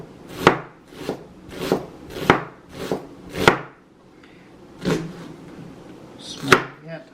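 A knife chops a purple onion into small pieces on a board, with about eight sharp, distinct cuts in an uneven rhythm, close and clear, with short pauses between strokes.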